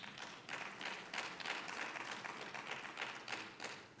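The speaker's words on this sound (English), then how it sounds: "if you can give her a round of applause, ladies and gentlemen" Faint, distant applause from a session audience at a fibre industry event, a soft steady patter of clapping with slight swells.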